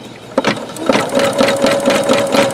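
A Singer Futura Quintet sewing machine embroidering with metallic thread runs with a fast, steady mechanical stitching rhythm and a faint whine, close and alone after a brief start.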